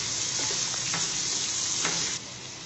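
Potatoes cooking with turmeric and red chili powder in a pan, a continuous loud sizzle with a few scraping stir strokes of a spoon against the pan, close by and without speech.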